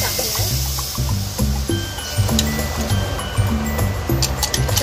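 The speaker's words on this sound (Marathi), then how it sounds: "आणि आता साफ केलेले मुळे उकळून घेतलेलं पाणी टाकणार।" Boiled clam water is poured into a curry of red masala and turmeric with a soft, steady trickle over a continuous backdrop of harmonic music.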